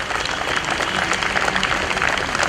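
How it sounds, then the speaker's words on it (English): Wedding guests give a dense, steady round of applause at a wedding toast, many hands clapping together at close range for a couple of seconds, with no voices over it. "Give them a big round of applause."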